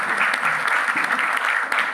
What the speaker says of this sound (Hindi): तो जोरदार तालियों से स्वागत कीजिएगा